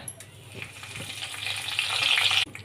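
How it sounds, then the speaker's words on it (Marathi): Mustard seeds, cumin, asafoetida and curry leaves hit hot oil for a green pea curry, a crackling sizzle that swells louder over a couple of seconds before stopping abruptly. "त्याच्यामध्ये आपण आता एक चमचा मोहरी टाकणार आहोत त्याच्यानंतर एक चमचा जिरं थोडंसं हिंग त्यानंतर कढीपत्ता"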